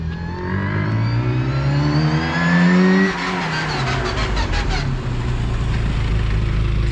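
A classic Mini with a 1380cc engine and straight-cut gears drives past, its loud engine note rising as it approaches, peaking, then dropping away, with a gear-whine character and no talking.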